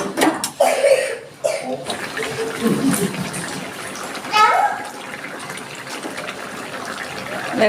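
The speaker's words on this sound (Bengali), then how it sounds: "এবার আমি দিয়ে দিচ্ছি জল" Water pours into a cooking pot for a hilsa and Malabar spinach curry, a short gushing splash near the start followed by a quieter trickle, mixed with talking and a cough nearby.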